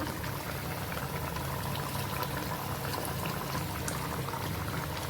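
Fish and onion curry bubbles vigorously in a pan, a dense, continuous simmering gurgle heard close up and alone for several seconds.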